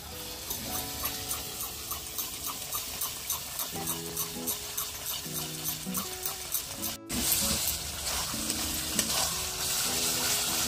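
Masala sizzles steadily in a pan on a clay stove while chicken kosha cooks, a continuous close frying hiss with periodic scraping stirs and tonal clinks over the steady crackle, no talking.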